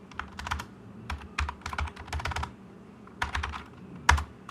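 Someone types a terminal command on a computer keyboard, with quick clusters of crisp key clicks, short pauses and a louder final keystroke, close up and with no speech.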